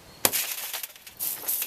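During a vehicle extrication rescue drill, car window glass is punched out: one sharp crack, then a scatter of crunching, tinkling fragments over about a second and a half.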